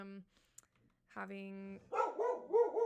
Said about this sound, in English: that's my dog. I don't know if you guys can hear him